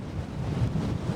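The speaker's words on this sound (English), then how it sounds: "it's still very blowy here. very windy still" Steady roaring wind on a Munro in the Cairngorms buffeting the microphone, a dense low rumble with no pauses and no voices.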